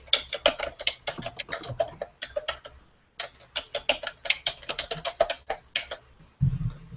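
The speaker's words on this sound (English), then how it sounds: "I know my keyboard's so loud with this really sensitive microphone that I have." Rapid, loud clacking from a computer keyboard picked up by a sensitive microphone comes in two bursts of busy typing, separated by a brief pause near the middle.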